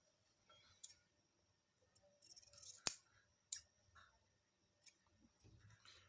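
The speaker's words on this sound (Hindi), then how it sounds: "एक्स्ट्रा कपड़ा हम काट लेंगे इसका" Scissors trim extra trouser fabric nearby in a quiet room, giving several short snips and crisp clicks at uneven intervals, one louder snap in the middle.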